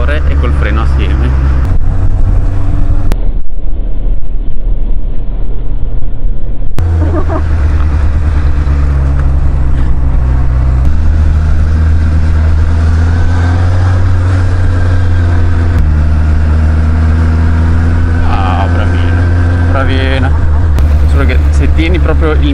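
A 100 hp motorcycle engine idles very low and slightly unevenly, giving a steady close rumble under people talking almost throughout.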